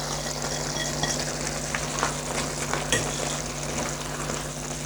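Chopped garlic goes into keema frying in a pan, giving a steady close sizzle with a few light stirring scrapes and clicks and no talking.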